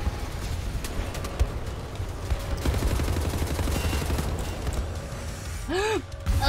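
Turret gunfire in Wolfenstein, steady rattling fire within a dense game mix throughout, with a faint voice briefly underneath.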